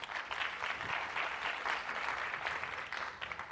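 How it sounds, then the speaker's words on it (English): Applause from an audience at a housing and health summit presentation, a steady dense wash of many hands clapping at moderate distance, continuous for several seconds with no one speaking. "who knew that CMS would get applause?"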